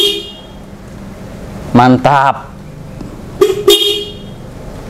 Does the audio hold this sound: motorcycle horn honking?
yes